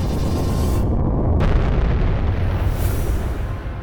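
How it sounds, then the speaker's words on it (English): A SpaceX Dragon 2 capsule explodes during a SuperDraco abort engine test, a loud sustained roaring blast with heavy rumble filling the whole few seconds, alone without voices. "A leaked video revealed an explosion that had destroyed the capsule."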